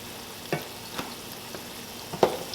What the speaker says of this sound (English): The chorizo and onions have been cooking here for several minutes.